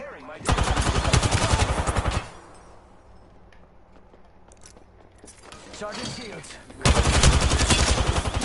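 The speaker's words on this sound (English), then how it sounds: "Enemies are shooting at me." Rapid gunfire bursts from enemies in the battle royale video game Apex Legends, two loud sustained volleys separated by a quieter lull with faint game sounds.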